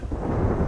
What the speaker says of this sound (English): the sky is closing. The storm is 200 miles across.